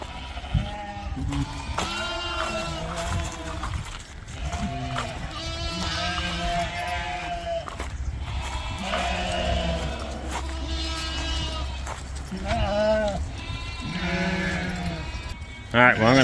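Sheep bleat repeatedly, several animals calling close by at varied pitches, with some shuffling and movement in the background.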